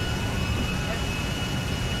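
An airplane engine in GTA V roars as a steady, loud jet-like drone with a constant whine, filling the whole moment without pause.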